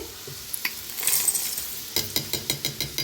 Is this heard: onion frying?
yes